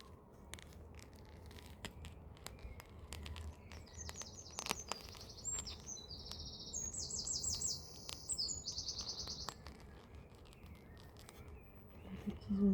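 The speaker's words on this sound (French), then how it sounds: "Il y a des petits oiseaux juste à côté là" Small birds chirp and tweet in short bursts outdoors on a sunny terrace, their calls light and moderately near over a soft, steady background, with occasional small rustles.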